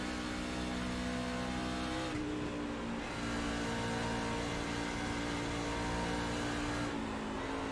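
Race truck engine in the iRacing sim at Dover, a loud continuous high-revving drone with steady harmonics that dips briefly at gear changes and climbs again under acceleration, no talking over it.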